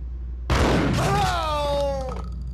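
A sudden loud gunshot burst in the Max Payne video game, followed by a ringing tonal decay that fades over about a second and a half.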